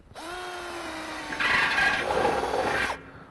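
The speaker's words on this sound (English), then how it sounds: "drill several holes around the barrel, about an inch off the bottom of the barrel" A power drill whines and squeals as it bites into a barrel about an inch off the bottom, the pitch rising as the bit cuts through, close and steady for about three seconds.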